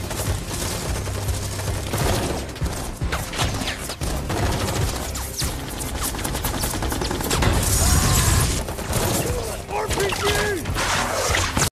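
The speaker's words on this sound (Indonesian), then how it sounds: "Dan terjadi baku tembak antara mereka dan teroris." A film gunfight between soldiers and terrorists in London, with dense, sustained automatic gunfire and rapid bursts filling the whole stretch, loud and chaotic, with shattering and mechanical clatter mixed in and voices partly buried beneath the shooting.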